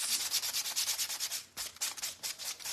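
Sandpaper rubbed by hand over a wooden Americana Uncle Sam craft piece, a close, quick rhythmic scratching of repeated back-and-forth strokes with a brief pause partway through.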